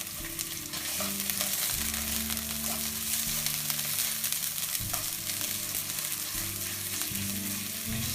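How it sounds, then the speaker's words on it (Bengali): Salmon and chopped onion fry together in a pan, a dense, steady sizzle that holds throughout, close and fairly loud, with a low hum underneath and no speech. "সামন ফিসটাকে আমরা ভাজি করব একই সাথে আমরা পেঁয়াজ কুচি দেবো"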